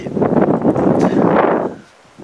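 Wind buffets a microphone on a mountain hike up a 780 m pinnacle, a loud, rough rumbling gust lasting nearly two seconds before dropping away abruptly.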